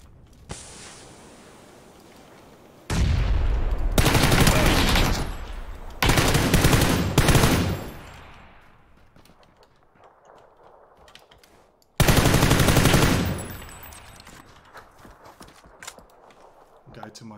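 Bursts of Mini-14 rifle fire in PUBG on the Miramar desert map, loud and close, with several volleys of rapid shots separated by quieter stretches of game ambience.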